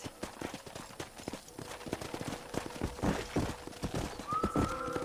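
A horse in Red Dead Redemption, hooves clip-clopping in a quick, uneven patter, followed near the end by a sharp whinny, all fairly close and fairly quiet.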